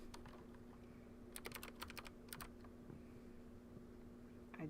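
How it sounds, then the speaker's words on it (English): Clicky computer keyboard keys clack in quick irregular bursts close by during a writing session, with a faint steady hum underneath and no speech. "I hope the clickety clack of my keys ain't too bad, y'all."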